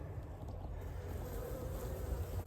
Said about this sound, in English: you can see our bees in there